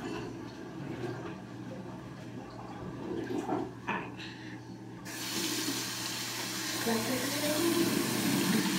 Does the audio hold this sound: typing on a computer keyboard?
no